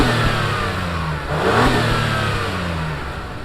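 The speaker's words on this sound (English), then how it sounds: "The only real difference here are the quad exhaust tips that's on the bottom. I mean, let's take a quick listen to how they sound." A 2022 Acura MDX Type-S V6 with quad exhaust tips revs up, a steady mid-pitched engine drone swelling to a brief peak and easing back, heard close with no talk.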